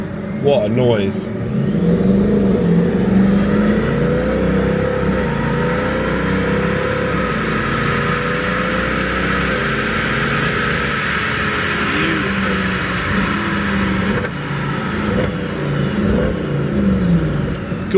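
Car engine fitted with a BMC performance air filter, heard from inside with a window open, revving hard and holding a loud, steady roar for most of the stretch, with a few swells in pitch and volume.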